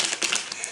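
Quick papery riffling and soft tapping bursts, like cards being shuffled close to the ear, brief and crisp.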